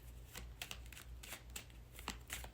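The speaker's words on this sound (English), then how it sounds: "I'm shuffling like a mad woman right" Cards being shuffled in a series of quick, crisp riffles and flutters, close by, with a low steady hum underneath.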